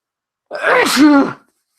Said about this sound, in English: feel like I'll get a sneeze.